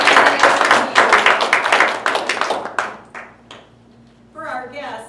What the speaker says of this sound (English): put your hands in front of you like this and clap for me.